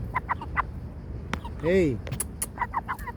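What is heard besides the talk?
chicken clucking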